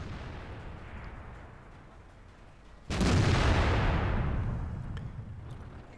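A tank's main gun firing in World of Tanks from an E-25 German tank destroyer: one heavy, booming shot that bursts out suddenly and then rumbles away over several seconds, with a lower background rumble before it.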